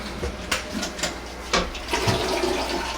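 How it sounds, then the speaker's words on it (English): A household toilet flushes during a home inspection in Arizona, a short gurgling rush of water with a few surges that stays moderately close and fairly quiet, with no talking. "Toilet flushes."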